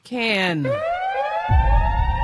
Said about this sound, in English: And I know y'all don't like the siren.